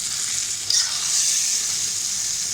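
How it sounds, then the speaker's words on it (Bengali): Ripe papaya stir fry sizzles in a pan with a dense, even hiss close by, broken briefly early on by a soft stirring clatter. "যেহেতু আমি পাকা পেঁপেটা ভাজি করতেছি"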